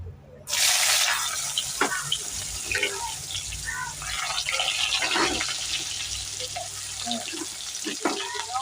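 Onions dropped into hot oil in a kadai burst into a sudden loud sizzle that carries on steadily, with scraping and clinks of stirring and a voice talking over it.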